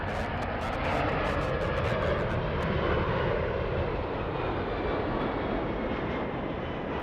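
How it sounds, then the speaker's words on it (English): Emirates airliner flying past on approach at LAX: a steady, moderately loud broadband jet roar holding for several seconds with a slight swell in the middle, no talk. "Emirates flying at 144 knots."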